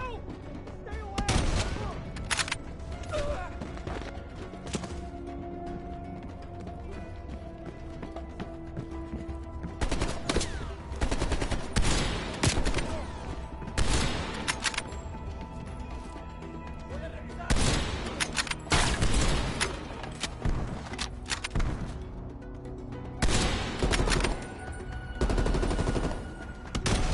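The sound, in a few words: gunfire in the video game Cold War campaign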